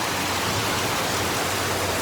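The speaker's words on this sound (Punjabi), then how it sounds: "ਬਹੁਤ ਹੀ ਜ਼ਿਆਦਾ ਤੇਜ਼ ਆਇਆ ਮੀਂਹ" Heavy, driving rain pours down outside a flooded house, a dense, constant hiss that stays loud and unbroken with no voices over it.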